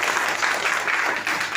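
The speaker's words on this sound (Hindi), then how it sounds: "ताली लगाओ एक बार जोरदार" An audience bursts into a short, loud round of applause, dense and steady clapping from many hands heard up close.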